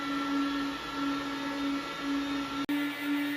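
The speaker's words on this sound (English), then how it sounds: "the noise level is about 73 decibels at around 1 meter" An Antminer L11 crypto miner runs at a steady, loud roar of fan noise with a constant electronic whine, close by and with no one speaking. The noise barely shifts apart from one sharp momentary dropout near the end.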